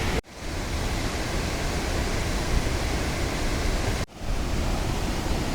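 Thoovanam waterfall in forest near Chinnar, Munnar, gives off a constant broadband roar of cascading water, loud and near, broken by two brief dropouts.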